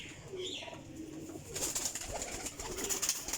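Baby pigeons coo softly at close range, with brief chirpy calls and a faint background hiss in a short burst.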